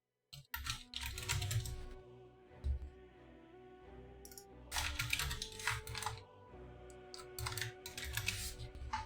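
Fast, furious typing on a computer keyboard comes in close bursts of clattering keystrokes separated by brief quieter gaps, with no voices.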